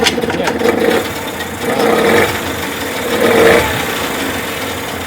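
A Tohatsu 18 outboard boat motor runs under throttle with a steady mid-pitched drone, swelling in a few surges as the throttle is worked, heard close and continuous.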